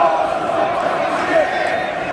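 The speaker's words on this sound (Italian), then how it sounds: "c'è il botta e risposta tra le tifoserie" Football supporters in an English stadium chant back and forth between the stands, a broad, sustained crowd roar with tonal sung lines riding over it at a distance.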